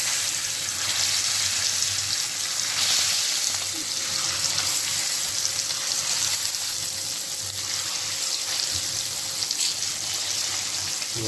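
Fish pieces fry on a hot tawa with a steady, even hiss and faint crackle that continues unbroken.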